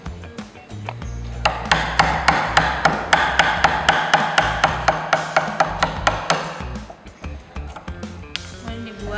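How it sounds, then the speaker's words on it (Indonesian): A chisel is driven into wood to cut a mortise for a mortise and tenon joint, giving a run of about twenty evenly spaced, sharp knocks at a brisk, regular pace before fading to quieter handling. "Nah, setelah itu kita pahat seperti ini."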